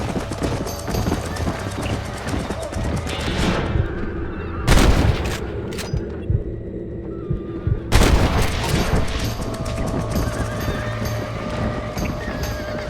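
Gunfire in the Red Dead Redemption video game as coyotes are shot near livestock, sharp loud bursts at about five and eight seconds over steady horse hoof clip-clop and game ambience.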